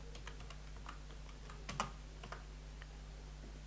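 Scattered keystrokes on a computer keyboard, a few light taps and one brief flurry over steady electrical hum, faint and close with no talking.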